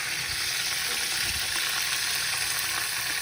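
A steady, even sizzle of grated coconut masala roasting in a pan for a Satara-style spicy mutton curry, continuous close frying hiss with a few faint stirring knocks and no voices.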